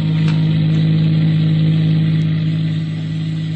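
A car engine hums steadily for a radio drama effect, a couple out motoring on a winding road, as a continuous mid-pitched drone with a slight easing of the revs toward the end, with no talk.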